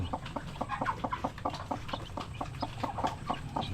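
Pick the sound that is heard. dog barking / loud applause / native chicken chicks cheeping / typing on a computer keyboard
native chicken chicks cheeping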